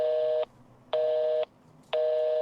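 Telephone busy signal: three evenly spaced beeps of about half a second each, separated by equal gaps, steady and clear with no talking.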